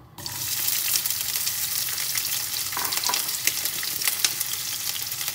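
Chopped onion sizzles steadily in hot pressed olive oil for a Sri Lankan lentil soup, a close, constant crackling fry with small bursts of spitting and no voices over it.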